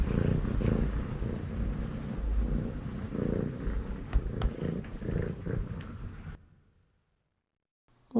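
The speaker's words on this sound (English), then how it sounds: "In this first one, you can hear both meowing and purring." A house cat's meow and purr, sampled and played back, form a steady low rumbling purr with brief higher meow-like calls over about six seconds before cutting to silence.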